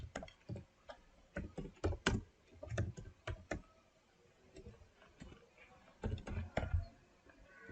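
Soft, uneven keystrokes on a computer keyboard as code is entered, in clustered bursts with a quieter gap in the middle, recorded close with some low thumping.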